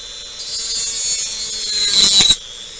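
A power tool with a toothed saw blade cuts into plastic parts from a Monogram Battlestar Galactica Cylon Basestar model kit, giving a close, steady high-pitched whir that rises to a harsher burst of cutting near the end before stopping abruptly.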